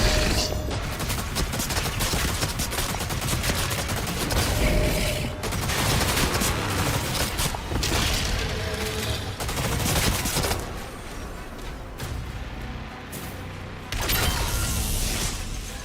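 Dense, continuous gunfire and explosive blasts from DOOM: The Dark Ages, with demons torn apart, loud and sustained throughout with bursts and booms layered over game music and mechanical clatter.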